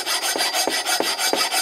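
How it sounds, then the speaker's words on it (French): Rhythmic rasping strokes of a hand file smoothing a Jeep Cherokee steering knuckle, about five even back-and-forth passes, close and steady with no talking. "un petit coup de lime"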